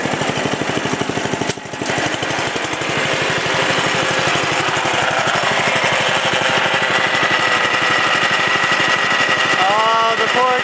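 An old Murray riding lawn mower engine runs steadily, a loud, close, continuous chugging drone that holds throughout with only a brief dip near the start.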